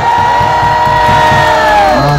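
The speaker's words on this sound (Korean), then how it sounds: "함성 다시 한번 주세요. 함성!" A political rally crowd at a Korean Taegukgi demonstration shouts and cheers as one loud, sustained roar, close and dense, with steady chanting pulses underneath.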